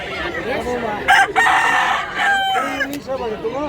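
A young rooster, a stag hatched in 2005, crows outdoors at a rooster market in Mantalongon, Barili, Cebu; several loud nearby crows overlap with other fowl clucking and crowing in the background.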